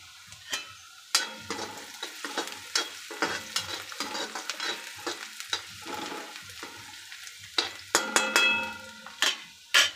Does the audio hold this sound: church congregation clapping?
no